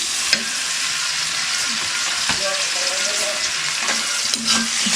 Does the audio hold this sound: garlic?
yes